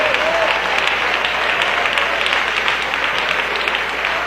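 Church congregation applauding together in a steady, dense wash of clapping that fills the room at an even loudness throughout, with no pauses or breaks.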